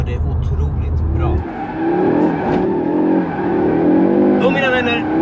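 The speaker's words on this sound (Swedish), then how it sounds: "Jag är här och driftar med nya RS3an." A 2022 Audi RS 3 drifts with squealing tires and a revving engine, the wavering screech loud and close over the engine drone, while someone talks in Swedish at the same time.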